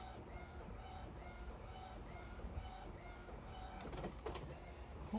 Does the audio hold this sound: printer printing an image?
yes